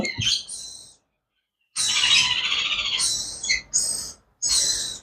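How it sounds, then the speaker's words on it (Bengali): An African grey parrot gives loud, harsh squawks and shrill whistles in close bursts, separated by a short silent pause. "পৃথিবীর ভিতরে সব থেকে বেশি কথা বলা পাখির ভিতরে একটা আফ্রিকান গেরে প্যারট"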